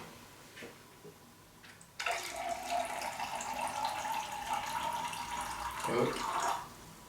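Cold water pours steadily into a bowl for a no-knead bread dough, a sustained splashing stream lasting about four and a half seconds, close and fairly loud, after a brief quiet start.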